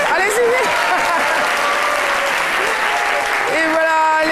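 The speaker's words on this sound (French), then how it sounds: "Vous pouvez vous applaudir." Loud studio audience applause on a French-language TV midday show, dense clapping throughout with music tones rising over it toward the end.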